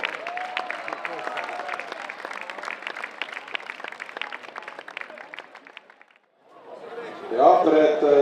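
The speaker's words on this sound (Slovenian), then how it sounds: "Aplavz torej za" Crowd applause at an athletics race awards ceremony in Ormož for a third-place finisher, many hands clapping steadily for several seconds before fading out, followed by a voice over a loudspeaker.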